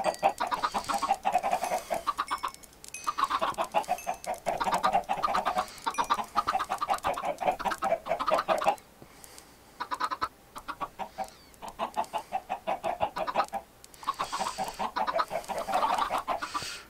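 Chickens cluck repeatedly in bursts with short pauses, fairly close and loud, in the video game Minecraft 1.8 while the birds are being fed.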